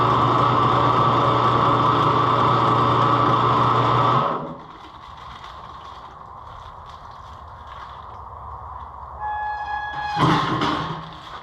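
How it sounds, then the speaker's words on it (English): A pollen sub machine runs loud and steady with a dense mechanical hum and whine for about four seconds, then cuts off. Faint clatter, a rising electronic tone and a brief knock follow in the quiet. "help if I actually engage the auger"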